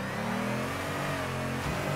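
Car engine in the Torque Drift video game revving hard after a clutch kick, a brief loud mid-pitched roar that dips for a moment near the end and then picks back up.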